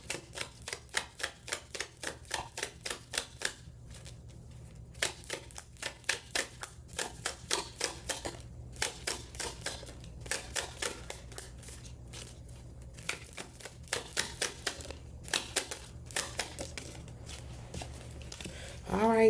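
Tarot cards riffle and flick in rapid, crisp bursts during a Gemini love reading, with repeated rounds of quick shuffling and short pauses, while a voice speaks softly in the background.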